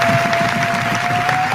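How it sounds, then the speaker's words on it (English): A radio-show audience claps for a performer named Danny Dolphin, a short burst of steady applause filling the room without any talk. "y'all clap it up again for Danny Dolphin"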